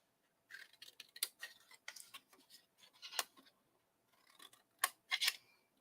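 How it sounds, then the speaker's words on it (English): Scissors snip through a milk carton in a string of short, crisp cuts with brief pauses, close and fairly quiet, no voices. "Cut straight up. Cut the bottom off. And we'll cut the outside tab completely away."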